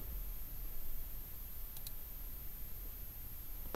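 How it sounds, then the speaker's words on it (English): A quick double mouse click dismisses Zabbix notifications on a Windows desktop: two sharp, faint taps close together, set against a steady low hiss with no other activity. "Click."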